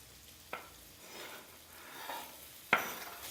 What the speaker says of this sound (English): I'm going to saute those up so they're about half cooked